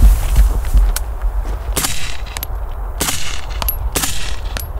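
Four suppressed shots from a SIG MCX Rattler rifle fired into a dirt berm crack out at uneven intervals, each a loud close report followed by a brief dull impact, with wind and outdoor rumble underneath.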